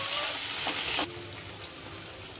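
Ginger garlic paste frying in a pan for a mutton dish, a soft steady sizzle that is louder at first and then settles into a quieter hiss.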